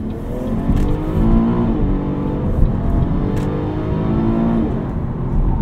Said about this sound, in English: You can hear the car automatically downshifting there.